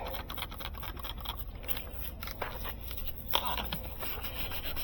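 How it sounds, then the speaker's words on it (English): Spot sanding a scratched car headlight lens on a 2019 Hyundai Elantra gives steady rubbing and scraping strokes, close and fairly faint, with a brief sharper scrape near the end. "spot sand them a little bit more."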